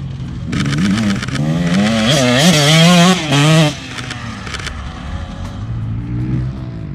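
A motorcycle passes through a corner on a road, its engine rising and falling in pitch as it approaches, leans through the bend and pulls away, leaving a fainter fading drone.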